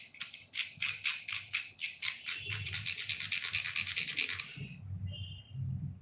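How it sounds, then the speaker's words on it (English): A gee-haw whammy diddle, a wooden Native American folk toy, rubbed with a stick in a rapid rhythmic scraping of about a dozen strokes, followed by softer low rumbling. "It's a Native American folk toy, believe it or not, made almost 200 years ago by Native Americans, and they call it Gee-haw whammy diddle"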